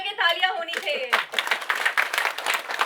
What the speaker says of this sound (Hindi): दोनों हाथ ऊपर करके तालियां होनी चाहिए